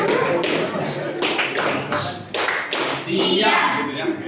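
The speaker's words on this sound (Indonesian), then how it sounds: "Tepuk diam." Rhythmic group hand clapping in a 'tepuk diam' class routine, a run of sharp claps in a patterned beat, close and loud, with voices alongside.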